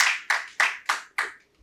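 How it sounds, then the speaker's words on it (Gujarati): Five sharp hand claps in an even rhythm, each with a short ring-off in a hall, welcome speakers at a literary book-introduction lecture. "આપણે વક્તાઓનું ખૂબ તાળીથી અભિવાદન કરીશું"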